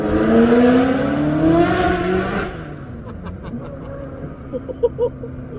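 A Ferrari in Japan spins its tires as traction control engages, the engine note climbing loudly and then dropping to a lower, uneven drone with a few sharp bursts near the end.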